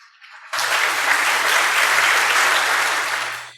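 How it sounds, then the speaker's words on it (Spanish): Audience applause at a state reform seminar in Lima, starting abruptly and holding as a loud, dense, sustained wash of many hands before tapering slightly at the end. "lo recibimos con un aplauso."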